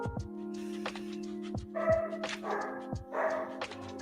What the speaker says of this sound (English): Listen to that mean puppy.